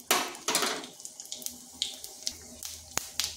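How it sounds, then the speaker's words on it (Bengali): Whole panch phoron and cumin seeds hit hot oil in a wok, giving sharp crackles and pops that arrive in irregular bursts over a quiet sizzle, close and fairly soft. "কড়াইতে দিয়ে দিচ্ছি তেল, দিচ্ছি সামান্য পাঁচফোড়ন আর সামান্য গোটা জিরা"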